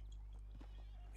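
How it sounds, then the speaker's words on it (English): A horse in Red Dead Redemption 2 gives a short snort or whinny with light hoof clops, faint against a low steady hum. "Where's that big mean horse?"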